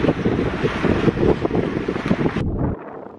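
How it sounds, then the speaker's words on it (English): Gusty winter wind blasts against the microphone in loud, uneven bursts outdoors on ice, then cuts off abruptly near the end. "It's windy here."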